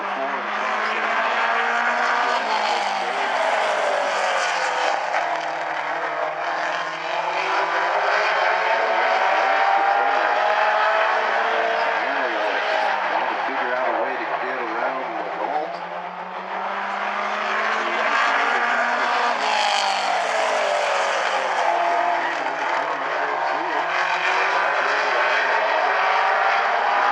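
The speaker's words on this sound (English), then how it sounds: "Just about at the rear bumper of LeGault as they come out of turn number 4 and across the line." Race cars roar around South Sound Speedway during trophy dash racing, a loud continuous engine drone that rises and falls as the pack passes, with an announcer calling the action over it.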